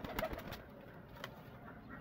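A Teddy pigeon for sale in Lahore gives a few soft, close coos over faint background hiss.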